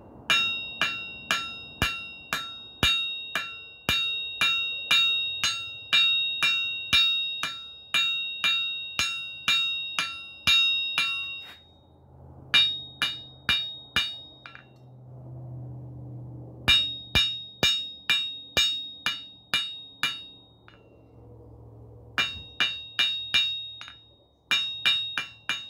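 A hammer strikes hot steel from a wood screw on an anvil to draw out a hook, ringing blows in fast steady runs, broken by short pauses and low rumbling between sets.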